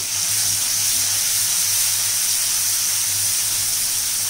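Steady, dense sizzling hiss of a spice mixture, premixed with water, frying in hot oil, continuous and fairly loud throughout, with a faint low hum beneath and no talking.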